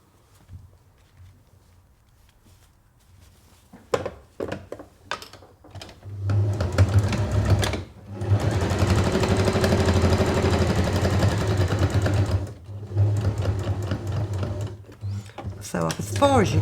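A sewing machine stitches a zipped make-up bag in a steady whirring run of several seconds, preceded by short bursts and handling clicks, with a voice talking around it.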